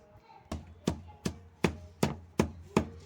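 Mint and green chillies for a raw mango chutney being pounded in a mortar: seven sharp, close thuds land at an even, steady pace, with no voices.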